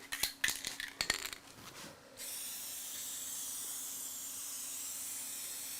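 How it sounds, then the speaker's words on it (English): Aerosol spray paint fogged onto an old aluminium window, a few rattling can clicks and taps giving way to a long, even, close hiss that holds steady to the end. "See, I'm just fogging that on there."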